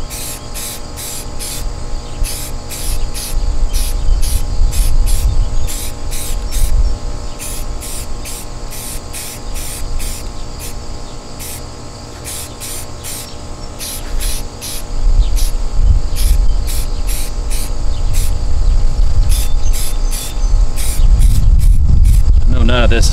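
Rust-Oleum trim and bumper paint sprays from an aerosol can onto a car bumper piece outdoors, in a long series of short hissing bursts, close and fairly loud, with wind rumbling in the background.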